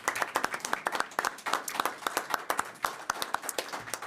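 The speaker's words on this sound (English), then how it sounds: "So can we give them a big round of applause," Audience at a city council meeting claps in a brisk round of applause, dense overlapping hand claps fairly close by, steady for several seconds with no talk over it.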